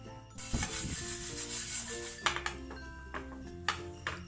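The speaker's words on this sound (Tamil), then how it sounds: "இப்போ எல்லாத்தையும் லைட்டாக வறுத்துக்குவோம்." Whole spices for homemade garam masala being dry roasted in a pan, with scattered clinks, rubs and light metallic taps as the spices are stirred, alongside faint sustained tones, all fairly quiet.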